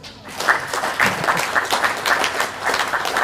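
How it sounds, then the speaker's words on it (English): A crowd at a Gippsland sports awards night applauds an umpire's 900th game milestone, a loud, even round of clapping from many hands that carries on throughout with no talk over it. "That's a round of applause."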